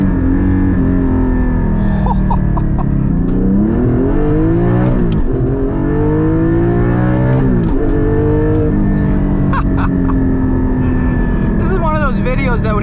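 A Porsche GT4 with a 4.5L engine accelerates hard through the gears, the exhaust note climbing and dropping with each shift and crackling between pulls; people talk over the loud engine.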